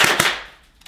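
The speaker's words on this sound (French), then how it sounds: "Ensuite, le mode Burst Fire. Donc, une rafale." Airsoft gun firing in burst-fire mode: a quick cluster of sharp, loud cracking shots close by in the first quarter second, with a fainter snap near the end, no talking.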